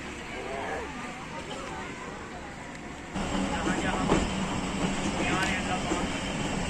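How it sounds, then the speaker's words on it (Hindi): The Hazara Express passenger train departs Fateh Jang, a steady low rumble of carriages rolling on the tracks that grows louder and rougher partway through, with muffled speech babble in the background. "फतेह जंग से चल पड़ी है जी हार्ट एक्सप्रेस"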